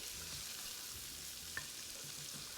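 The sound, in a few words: onion sautéing in unsalted butter in a skillet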